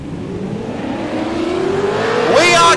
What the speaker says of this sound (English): as we can hear them revving the engines now